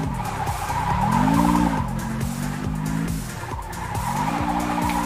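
A car in the Car Parking video game drives with a steady droning engine while its tires squeal in long, loud, repeated skids that rise and dip in pitch, continuous throughout.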